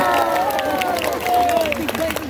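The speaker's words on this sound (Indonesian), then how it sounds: "Tepuk tangan dulu dong buat panitianya." Crowd applause and cheering fill the space, a steady wash of clapping with some voices mixed in.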